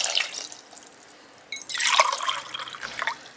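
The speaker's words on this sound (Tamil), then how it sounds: "இப்போ நம்ம தண்ணி ஆட் பண்ணிக்கலாம்." Water is poured into a pot of basmati rice for mushroom biryani: after a few faint drips, a steady close splashing pour begins midway and runs on, gurgling, until the end.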